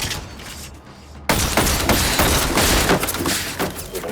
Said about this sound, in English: I'm gonna shoot. I'm gonna kill him. I'm gunning you down, boy.